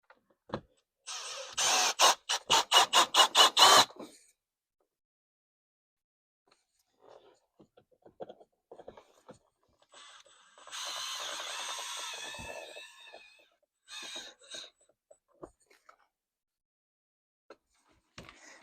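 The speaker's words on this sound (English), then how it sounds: "I'm just going to put 3 small screws on this side, and this should then hold it from" Small screws driven in with a power drill while fixing a part on a DeLorean time machine build, with a rapid burst of close drill pulses, then scattered handling noises and a longer whirring run.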